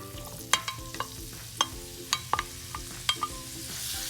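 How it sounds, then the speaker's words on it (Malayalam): Chopped onions go into a hot pan for a Kerala-style shrimp roast, giving soft sizzling with repeated sharp scrapes and clicks of a spoon stirring against the pan, close and fairly quiet, no talking. "ഇനിയിപ്പോൾ ഇതിലേക്ക് ഞാൻ ഈ അരിഞ്ഞു വെച്ച സവോള ഇടുവാണ്."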